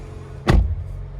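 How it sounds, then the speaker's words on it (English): A car door thuds shut once on a 2020 Cadillac XT4 Premium Luxury AWD, a single close, solid impact heard over a low steady idle. "Close the door."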